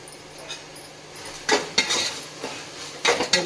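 Spoon scraping and clinking in a pan while garam masala and salt are stirred and fried for a vegetable pulao, a few sharp metallic knocks over a low sizzle.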